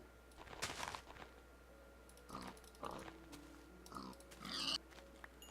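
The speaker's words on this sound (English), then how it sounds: "Oh, there's a ton of pigs over here." Several pigs in the video game Minecraft grunt and oink in short separate bursts, fairly close and clear over a quiet steady background hum, with no talking.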